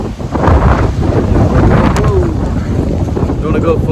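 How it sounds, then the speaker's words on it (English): A strong gust of wind buffets a microphone outdoors on a hillside overlook in a Pennsylvania nature reserve, a loud, continuous low rumble that swells and roars for several seconds. "Hold on, here comes the wind."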